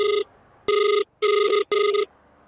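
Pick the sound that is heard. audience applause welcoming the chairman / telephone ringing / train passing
telephone ringing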